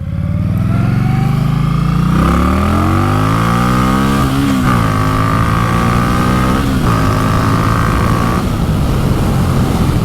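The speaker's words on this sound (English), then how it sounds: "Yeah, it's got some really good acceleration." An Indian Scout Bobber motorcycle with a six-speed gearbox accelerates hard and close, its engine note climbing steadily through several gear changes over a constant loud roar, with no talk.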